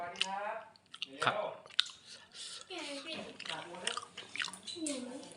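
Someone chewing soi ju, a Thai raw beef dish, with close wet mastication and squishy bites in bursts, while someone talks over the eating.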